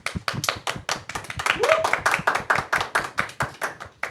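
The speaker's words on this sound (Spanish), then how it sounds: "Despedimos con un fuerte aplauso a Rolando Bonilla" Steady rhythmic hand clapping from a small group farewells a guest after a Christmas-season prayer on a Catholic faith talk show, close and even, with a brief vocal tone in the middle.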